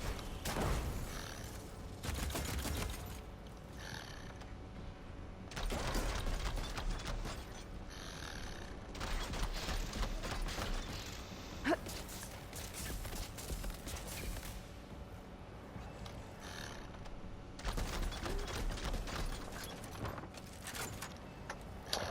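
Weapon handling in Horizon Forbidden West: a run of mechanical clicks, clacks and thuds in irregular bursts with short pauses between, fairly quiet and without talk.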